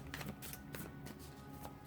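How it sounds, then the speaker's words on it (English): Tarot cards are shuffled in quick riffling bursts, soft papery flicks repeating close by, with no talking. "as I'm looking at those cards, as I'm shuffling"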